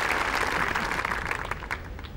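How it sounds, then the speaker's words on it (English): Steady crowd applause around the 18th green at The Open Championship golf tournament rolls on without a break, full and close, slowly easing off toward the end. "accepting the warm round of applause from all those gathered still around the 18th green"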